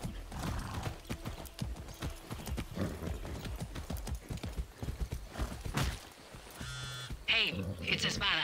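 Horse hoof clip-clops in Far Cry 6 patter steadily under someone talking and game music, followed by brief electronic tones near the end.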